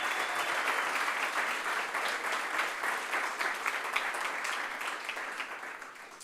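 Sustained applause from an audience at a city innovation district framework planning meeting, steady and dense clapping that holds for several seconds and tapers slightly toward the end, with no talking over it.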